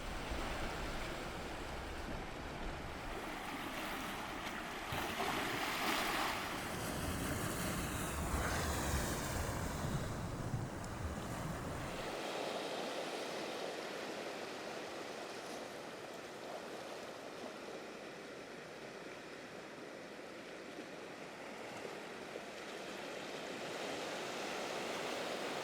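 Waves wash against a rocky shore at night near Lavandou in the south of France, a steady rushing surf that swells louder in the first half and then settles into a softer, continuous wash with no voices.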